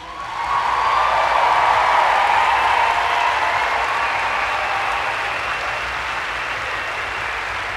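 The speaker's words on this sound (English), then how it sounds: "give a huge round of applause to all the anonymous investigators who take great risks to bring out the undercover footage" Audience applause at a vegan conference speech, a large crowd clapping loudly and continuously, swelling quickly and then slowly easing off, with no speech over it.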